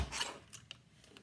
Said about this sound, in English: I can line that up nice and straight on my trimmer, and I'm going to be able to trim that